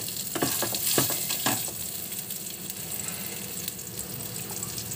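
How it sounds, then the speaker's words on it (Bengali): Garlic fries in hot oil in a pan, starting with a few sharp spatters and bursts of sizzling, then settling into a softer continuous hiss nearby. "তো সবার আগে আমি এই রসুনটা ফোড়ন দেব।"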